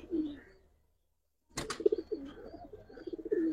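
Giribaz pigeons cooing in a loft: low, rolling coos rise and fall in short bursts, briefly stopping for a silent gap before resuming with repeated, moderately close cooing.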